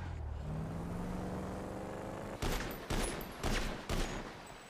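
Bursts of video game gunfire in a hostage scene, four short loud volleys in quick succession after a stretch of low rumbling background, with no talk over them.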